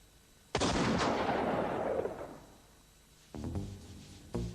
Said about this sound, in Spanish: Al apretar el gatillo, el arma dispara.